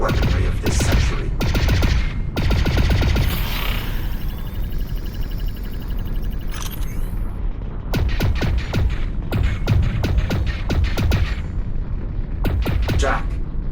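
Ionized bolt weapon in Lone Echo fires in rapid bursts of sharp, punchy zaps, close and loud, grouped into several volleys with gaps of softer electronic hum, and a voice speaks between shots.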